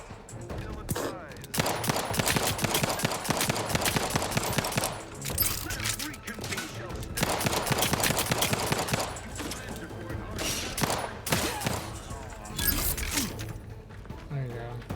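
Bursts of rapid gunfire hit the player in The Outer Worlds 2, loud clustered volleys and automatic fire coming in waves with short gaps between them, while a voice talks over parts of the shooting.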